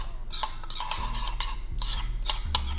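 A spoon stirs garlic herb marinade in a dish, bursts of scraping and clinking against the bowl in uneven strokes, close and fairly loud with no speech.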